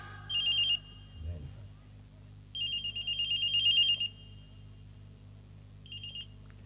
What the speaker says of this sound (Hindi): एसपी साहब का टेलीफोन आ रहा है